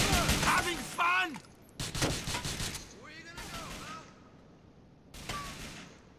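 Bursts of gunfire in GTA IV, rapid volleys of shots in several clusters with short pauses between, loud and close, mixed with voices and other game sounds.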